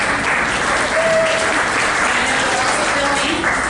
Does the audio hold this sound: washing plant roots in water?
no